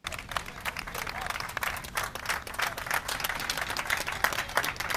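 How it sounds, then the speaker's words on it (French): An audience applauds at a ceremony celebrating Congolese rumba joining the list of intangible cultural heritage. Continuous, lively clapping from a large crowd fills the whole stretch at an even level. "Mais j'aimerais applaudir pour eux aussi."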